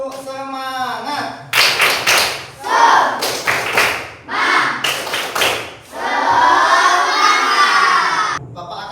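A classroom of children performs a rhythmic spirit clap, sharp clustered bursts of clapping in a patterned rhythm, with a teacher's voice before and a sustained shouted chant near the end.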